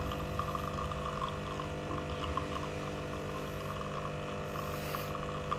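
A Lelit Mara X espresso machine extracting a shot at around 10 bar, a steady pump hum and trickling pour into a cup, close and even throughout.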